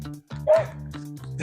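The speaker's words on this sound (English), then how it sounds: "We're going to get attacked by some dogs." Dogs bark and yip close by over a continuous low droning background, with one sharp high yelp standing out among shorter barks.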